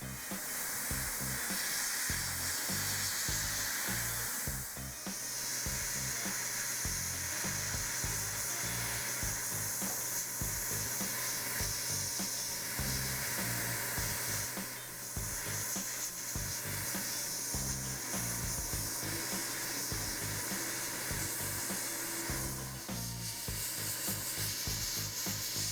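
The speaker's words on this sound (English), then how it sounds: "I spray a mottled or marbled pattern for the first layer to get some tonal variation in the paint job." Continuous airbrush hiss spraying Mr. Color 308 grey lacquer onto a 1/35 Kitty Hawk HH-60G Pave Hawk helicopter model, steady and close with brief dips as the trigger is eased, over a faint background music bed.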